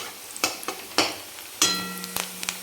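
Onion sautéing in a pan until soft, with a low sizzle broken by several sharp scrapes and clinks of a spatula stirring, close and clear.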